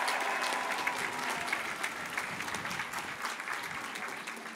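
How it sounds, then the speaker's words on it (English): University commencement audience applauding graduating faculty, a dense sustained round of clapping from a large crowd, steady throughout. "I ask the class of 2023 to give them a big round of applause."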